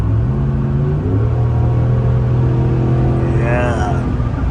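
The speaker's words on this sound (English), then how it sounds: "Now, if I push the pedal down, yeah, you're gonna hear the exhaust." A RAM 1500 pickup's 5.7L Hemi V8 with a Magnaflow 3-inch exhaust rumbles deep and loud, then revs up with a rising throaty exhaust roar before settling.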